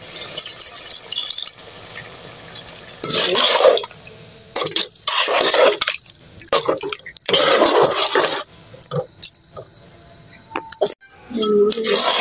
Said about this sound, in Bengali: আমি একটু পানি দিয়ে দিই।